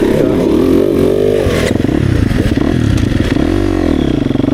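A Beta 250 two-stroke dirt bike engine revs hard and close, its loud raspy blare rising and falling continuously with rattly mechanical clatter throughout and no voices.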